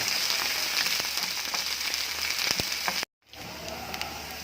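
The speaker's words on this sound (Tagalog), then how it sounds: "igigisa muna natin ang ating patatas. Hanggang ma-golden brown siya." Potato pieces sauté in hot oil in a pan until golden brown, giving a steady, dense sizzle with faint crackles. The sizzle cuts out abruptly for a moment, then returns more quietly.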